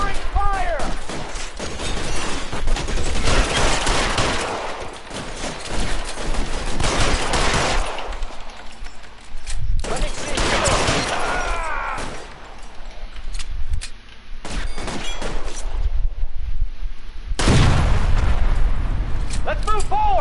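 Repeated gunfire bursts and heavy shots in the video game L.A. Noire, loud and dense in clusters separated by brief lulls, with voices shouting in between.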